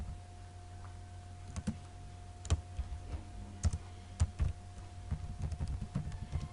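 Keys clicking on a computer keyboard while a GW-BASIC program is typed, giving scattered, fairly quiet taps in irregular bursts over a steady low background hum, with no voice.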